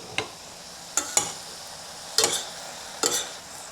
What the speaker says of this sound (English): And then add the stir-fry sauce.